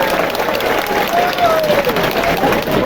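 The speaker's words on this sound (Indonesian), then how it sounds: "Tepuk tangan untuk kita semua." Applause from the crowd at an outdoor government ceremony in Gunungkidul, loud, continuous clapping from many people, with voices murmuring underneath and a faint tonal sound drifting through.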